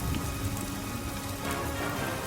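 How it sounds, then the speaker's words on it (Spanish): Heavy rain pours steadily in a horror audiobook scene, a loud, dense, unbroken hiss of drops drumming on surfaces with no pauses and no voices. "El fragor de la lluvia era ensordecedor"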